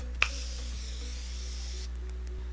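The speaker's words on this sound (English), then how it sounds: "I'm going to go ahead and set my face with this Morphe setting spray." A brief sharp click is followed by a steady hissing spray of Morphe setting spray mist lasting over a second, then fading into quiet room tone.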